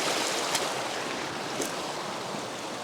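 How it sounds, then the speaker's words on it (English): A flooded creek on a farm, after breaking through a berm, rushes steadily close by as a continuous broadband wash of flowing water with no pauses. "Okay, I just crossed the creek,"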